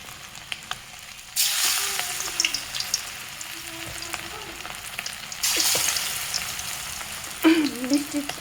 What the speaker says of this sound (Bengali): এখানে আমি তেল গরম করে রেখে এখন আস্তে আস্তে চিকেনগুলো সব দিয়ে দিব